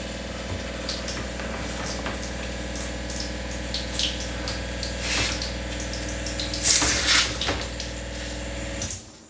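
An Invital Advance 1520 reverse osmosis filter runs with a steady pump-like hum while tap water flows, a continuous close mechanical drone with faint splashes and clicks, cutting off at the end.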